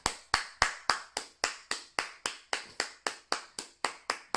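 A church congregation clapping to acclaim the Lord, crisp sharp claps in a steady even beat of about three per second, close and clear with nothing else over them.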